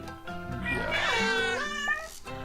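A cat gives one long, drawn-out meow that rises and falls in pitch, clear and fairly close, over a quiet background.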